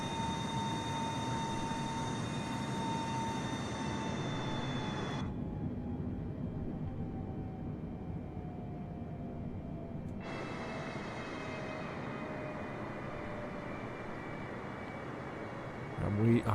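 Steady jet engine drone as an airliner climbs after takeoff in Microsoft Flight Simulator, running at reduced power. The droning hum stays even and continuous throughout, with its pitch slowly falling and some high-frequency hiss dropping out partway through.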